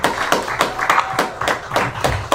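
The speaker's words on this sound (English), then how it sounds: "Clap your hands, so beautiful." An audience clapping their hands in a steady, rhythmic beat, roughly four claps per second, fairly close and even in loudness, with no speech over it.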